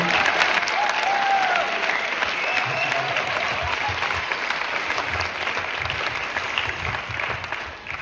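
Sustained applause from an audience at an association gathering, a dense even patter of many hands clapping that stays steady before tapering slightly at the close.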